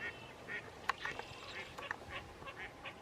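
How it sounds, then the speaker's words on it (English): A mallard duck perched high on a treetop gives a run of short quacks, faint and somewhat distant over outdoor background noise, with a few sharper calls mixed in. "this is mallard on the top of a tree"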